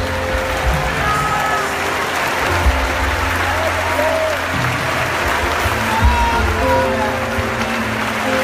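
A church congregation claps in steady applause through the whole stretch, with scattered voices and faint tonal sounds mixed into the crowd noise.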